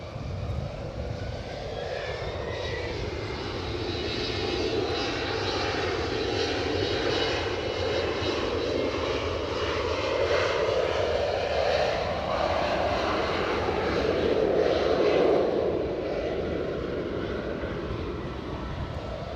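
A British Airways airliner takes off at Edinburgh Airport, its jet engines building into a loud, sustained roar that swells and sweeps past before starting to fade, with no talk over it.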